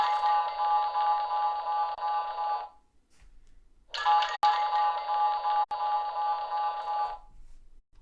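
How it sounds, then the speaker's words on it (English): Darth Maul pressing buttons in Star Wars: two bursts of bright, buzzing electronic tone, each lasting roughly two to three seconds and separated by a short silence, heard alone at moderate volume. "Darth Maul presses buttons."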